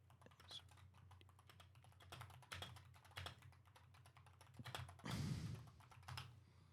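Typing on a computer keyboard: quick, irregular clusters of clicks and taps, faint and close, with a louder burst of keystrokes near the end and no talking.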